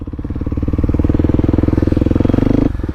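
A Kawasaki KLX300SM motorcycle engine revving hard during a wheelie, a loud, close, steady pulsing drone that holds for about two and a half seconds and then drops sharply to idle.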